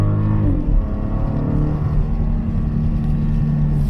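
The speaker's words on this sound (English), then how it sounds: "I believe this is still the VR6, so when you accelerate," Naturally aspirated VR6 V6 in a 2021 Volkswagen Atlas SE SUV accelerating, a low engine drone that climbs and settles as it pulls, heard from inside the cabin without talk.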